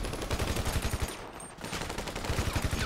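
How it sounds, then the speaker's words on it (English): Rapid automatic gunfire in the video game GTA 5 Online rattles in dense, loud bursts, pausing briefly in the middle before resuming at the same fast rhythm. "I lifted up finally and shot him in the head."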